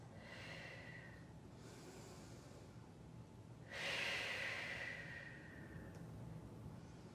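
During a mat exercise class, slow deep breaths come close and soft: a long inhale, a pause, then a stronger, louder exhale that fades gradually.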